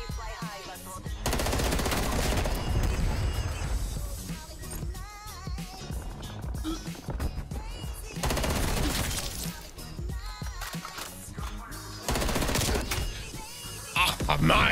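Rapid gunfire from an FFAR 1 rifle in the Call of Duty Black Ops Cold War video game, with dense automatic bursts that recur across the clip and sit under game noise and a talking player.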